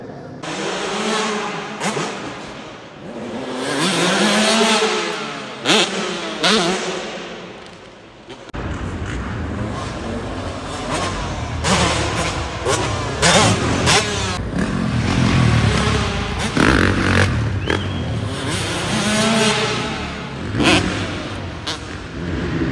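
Supercross motorcycles at the Paris SX, including a 112 ridden among 125s, roar and rev around an indoor track, loud and continuous with engine pitch rising and falling, accompanied by crowd noise and some speech.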